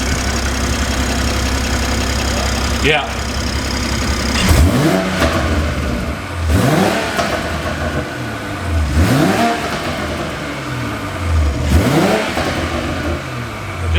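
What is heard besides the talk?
2020 Toyota Supra engine with AFE intake revving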